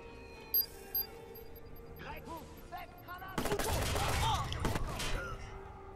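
Gunfire in the video game Watch Dogs: after a few seconds of quieter in-game ambience with brief chimes, a dense, loud burst of rapid shots erupts and continues to the end.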